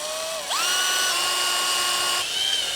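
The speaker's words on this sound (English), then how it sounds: "let's drill a hole there anyway" A power drill bores a hole in a trim part of a BMW X5, its motor whining up to a steady high pitch, holding for a couple of seconds, then easing off, loud and close.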